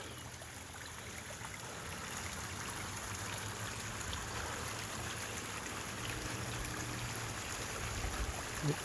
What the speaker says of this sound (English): here's the creek again.